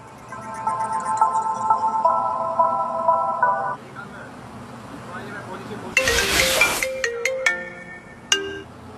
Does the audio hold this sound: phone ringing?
yes